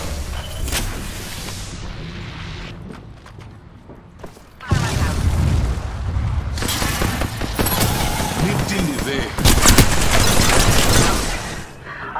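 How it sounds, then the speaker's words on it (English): Bursts of gunfire and booming impacts from an Apex Legends firefight, loud and sustained, with a quieter stretch before heavy shooting resumes and continues to the end. "Taking fire."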